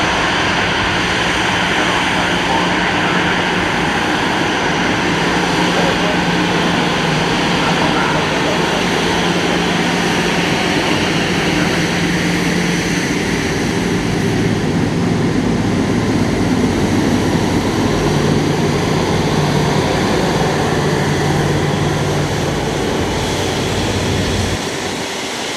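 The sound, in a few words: aircraft at Bali airport, A321, 737, 777 or 787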